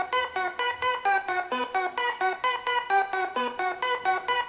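Trap hip-hop beat at roughly 130 BPM from a Filipino rap track, playing alone with no vocals: a bright, pulsing chopped synth melody repeats in steady even bursts at a moderate, constant level.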